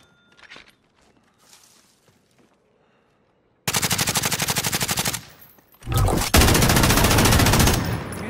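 Automatic gunfire in the Call of Duty Warzone video game: a loud, rapid machine-gun burst, a brief pause, then a second sustained burst, close and alone without talk.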